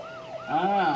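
A toy emergency vehicle, a fire-service or ambulance model, sounds a bright electronic siren that wails in rising and falling sweeps, close and fairly loud.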